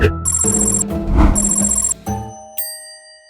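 A telephone rings while a call is placed to Incheon city hall, with two bright electronic ring bursts close together, then a brief click and a short tone as the line changes, without any talk.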